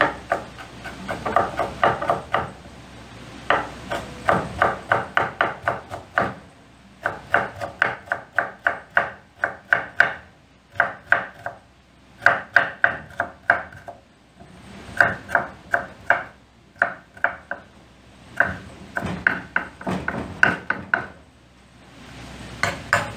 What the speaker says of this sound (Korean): 그래서 어디서 당근을 이렇게 채를 썰어서 쓰냐?